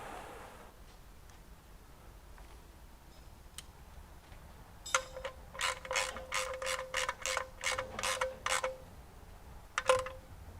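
A torque wrench tightens a bolt on a new gasket on a GMC Envoy. A run of about eight sharp, evenly spaced ratcheting clicks sounds up close, followed by a pair of clicks as it reaches torque.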